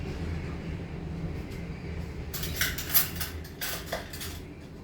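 Dishes and cutlery clink while stuffed eggplant and dal are plated, starting about halfway through. Several sharp, close metallic taps and scrapes stand out over a low, steady background hum.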